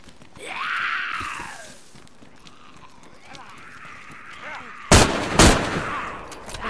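Two loud, close gunshots in DayZ crack out in quick succession after a stretch of quieter ambient movement and a groaning voice.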